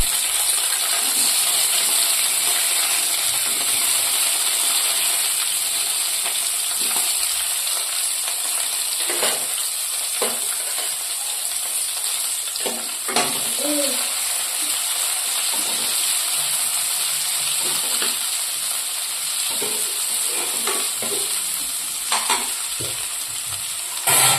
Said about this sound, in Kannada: ಇದ್ರೊಳಗೆ ಕಟ್ ಮಾಡಿ ಇಟ್ಕೊಂಡಂತ ಈ ಟೊಮೆಟೊನ ಇದ್ರೊಳಗೆ ಹುರ್ಕೊಂಡ್ರಿ